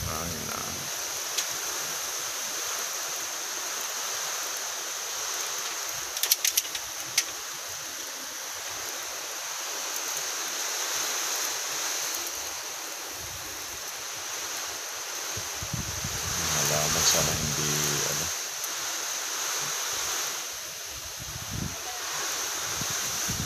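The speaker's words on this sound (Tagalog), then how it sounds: "Lakas ng hangin na." Strong wind from Typhoon Rolly in Cavite roars as a continuous broadband rush with gusty swells and rain noise mixed in, picked up as close wind buffeting on the microphone, and a person talks briefly over it.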